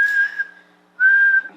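A person whistles a long warning signal meant to alert neighbors that ICE is detaining someone: two sustained, steady high tones, the first about half a second, then a pause and a second equally long blast, loud and close.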